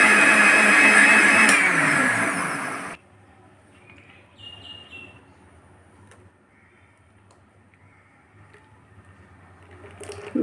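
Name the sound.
mixer grinder blending muskmelon juice with milk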